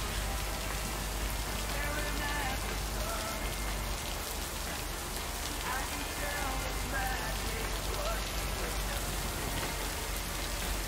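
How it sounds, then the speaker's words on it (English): Steady rain falls throughout, a dense, continuous hiss of drops striking surfaces that holds an even loudness from start to finish with no clear speech. "I do love rain."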